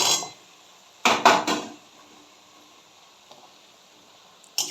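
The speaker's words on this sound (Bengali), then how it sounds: "এই সময়তে আমি আলুগুলোকে দিয়ে দিচ্ছি।" Potatoes tipped into a cooking pot while making mochar ghanto with coconut: a short cluster of clattering knocks against the pot, then quiet, with another brief clink near the end.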